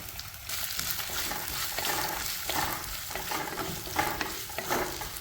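Chopped small shallots frying in oil in a pan for a mushroom curry, a continuous close sizzle broken by scraping stirs, with no talking.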